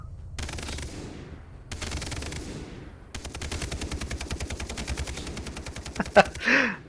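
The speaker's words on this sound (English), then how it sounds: "I guess sometimes you just get excited and have to shoot some guns in the air" Sustained automatic gunfire from guns fired into the air in the Far Cry 3 video game, with repeated bursts of rapid shots that grow denser and continuous, loud and close, plus a couple of sharper cracks near the end.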